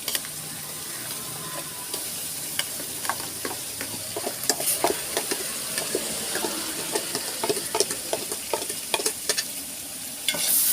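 Shallot paste, about three-quarters of a kilo, frying for a Ramadan mutton biryani, with a steady close sizzle and repeated scraping stir strokes that build and stay busy throughout.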